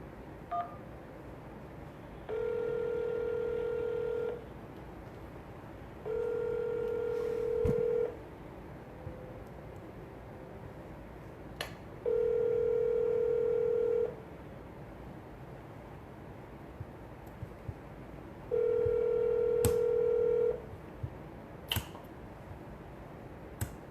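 A telephone call rings through on a seller's number, giving four long, evenly spaced ringback tones with pauses between them and a few faint clicks. No one speaks.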